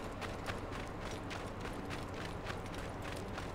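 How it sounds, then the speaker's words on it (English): A horse galloping across desert terrain in Assassin's Creed Origins, rapid rhythmic hoofbeats thudding steadily under a constant broad background rumble, moderately quiet and with no talking. "Is my horse running away from me?"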